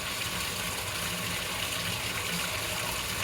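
Water leaking from a shower head, a steady, broad hiss of running water, loud and continuous from start to finish, cut off abruptly at the end.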